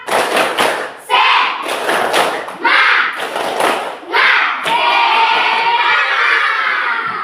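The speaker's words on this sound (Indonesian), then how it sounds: "Ice breakingnya tepuk semangat." A class of children doing a rhythmic spirit clap in a classroom, loud chanted shouting broken by clustered rapid clapping in short bursts, ending in a sustained cheer.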